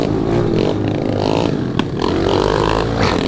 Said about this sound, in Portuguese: A moto parou de funcionar do nada, mano. Começou a se falhar.